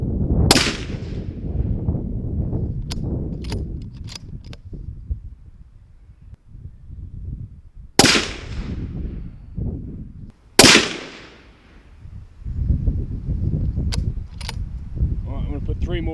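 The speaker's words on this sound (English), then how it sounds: "I'm going to shoot this now off of where it was a very cold barrel, a very hot barrel." Remington 700 Mountain SS rifle firing from a hot barrel, several sharp, loud cracks spaced seconds apart, with someone talking between shots.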